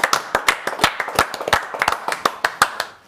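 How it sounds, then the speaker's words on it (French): A small studio audience claps in sparse, uneven bursts for a junior rugby team from Issoire on a TV set after their title win, with distinct individual hand claps close and clear, fading out at the end. "on peut déjà les applaudir"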